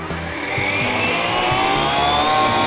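A Honey Bee RC helicopter's rotor whirs loudly and continuously, its tone rising steadily as the throttle is increased.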